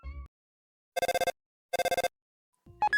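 A telephone rings in two distinct bursts of rapid bell trills, each about a third of a second long and spaced apart, with silence between them and a brief voice fragment at the very end.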